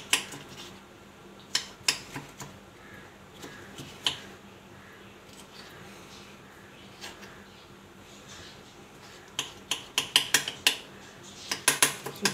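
Knife chopping strawberries on a board, scattered sharp taps that come in short bursts with quiet gaps between, close and fairly crisp.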